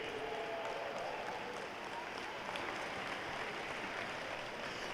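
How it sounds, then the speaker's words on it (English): Spectators at a U13 AAA hockey championship ceremony give a round of applause for the Toronto and Quinte teams, a faint, distant wash of clapping in an arena that stays even throughout. "A round of applause for Toronto and Quinte"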